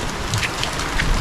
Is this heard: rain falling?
yes